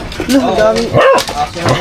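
Several dogs barking and yipping at a lakeside home on Laguna de Bay, short bursts close by and mixed with people talking over them.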